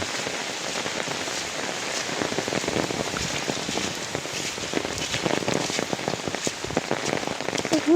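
Heavy rain pours steadily onto a surface in a rural farming area, a dense continuous hiss with close, crackling drop impacts throughout and no voices.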